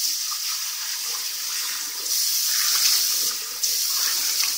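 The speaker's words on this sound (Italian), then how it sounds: "sciacquiamo il viso." Tap water runs steadily into a bathroom sink while a face is rinsed after shaving, a close, bright hissing flow that swells louder midway with brief splashes.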